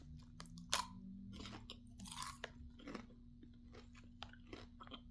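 Crunchy chewing of a buttery caramel corn snack while lounging on a couch, with close, irregular bites and crunches spread through the stretch and no talk.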